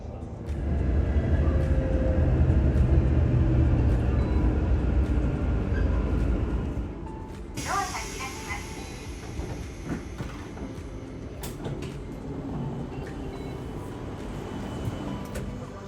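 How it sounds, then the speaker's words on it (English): An E5 Tohoku Shinkansen high-speed train pulls into Koriyama station, a steady loud rumble of running gear easing off into quieter rolling, rattles and faint clicks as it slows. "our train pulling into Koriyama at the end of our journey"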